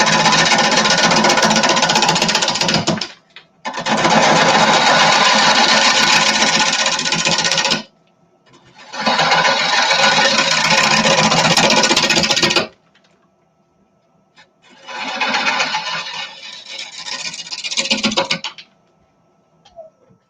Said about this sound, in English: I'll be doing a draw cut across the bottom to expose some nice clean flat wood